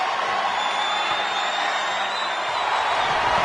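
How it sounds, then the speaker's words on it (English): Steady crowd roar and cheering from an arena audience in a PS4 wrestling video game, a sustained broadband wash filling the whole moment under faint game commentary. "The crowd is locked in."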